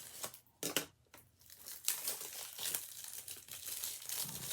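Plastic wrap crinkles and tears as a Blu-ray case is unsealed, irregular close crackling bursts with short pauses, growing into a steady rustle toward the end.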